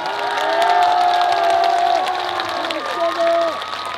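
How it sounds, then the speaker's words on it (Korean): A crowd at an Osan city citizens' day event cheers and claps for the mayor, a loud dense mix of applause and shouting with voices speaking over it. "이건재 시장님께 다시 한번 큰 박수 부탁드리겠습니다"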